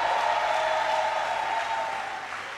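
A church congregation applauding, steady dense clapping heard from a distance, holding evenly for a couple of seconds before tapering slightly.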